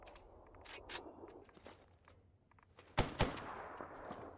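A firearm in S.T.A.L.K.E.R. Anomaly fires in short, uneven bursts that stall and sputter as the weapon jams. Sharp, quiet reports are separated by gaps, with a louder pair of shots near the end.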